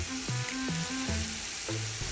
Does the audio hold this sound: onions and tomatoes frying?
yes